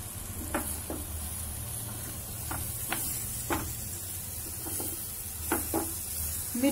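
Green chillies cooking in a covered pan for pickle, giving a low steady sizzle with scattered soft clicks and scrapes of stirring, fairly quiet and close, with no talking.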